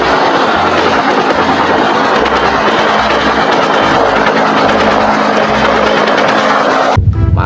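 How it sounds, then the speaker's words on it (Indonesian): A toy helicopter running with a loud, steady whirring rotor buzz and rhythmic mechanical clatter, close up, cutting off abruptly near the end, with no talking. "Wow, ini helikopter."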